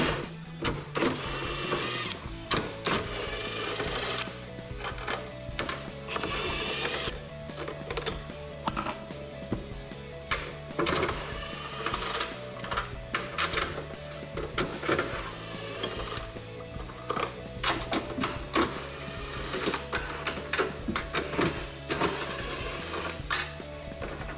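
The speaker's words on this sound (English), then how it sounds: "Popping these bolts off with a 13mm socket." A 13mm socket wrench pulling bolts on a Jeep Gladiator JT, a close stream of rapid ratcheting clicks in bursts with brief pauses, over constant mechanical background noise.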